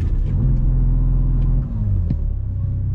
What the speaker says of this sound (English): I'm just gonna hit the brake and mat the gas.